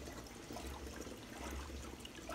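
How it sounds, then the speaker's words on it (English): Strong wave in a 150 gallon reef aquarium driven by a VorTech MP60 pump: quiet continuous sloshing and trickling water, steady and close, with no voices. "water's almost coming out of the tank. It's hitting the rim every time"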